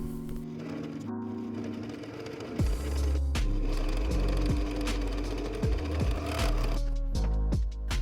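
An overlock machine stitching the hood seams of a hoodie, a rapid mechanical whirring that runs in loud close bursts, speeding up and slowing between short pauses.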